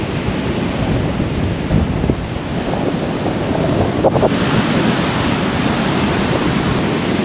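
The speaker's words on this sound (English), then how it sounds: "This is a beautiful beach." Waves break and roll onto a beach after a winter storm, a loud continuous surf roar mixed with buffeting wind on the microphone, no voices.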